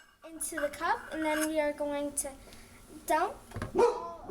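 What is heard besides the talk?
dog Bella barking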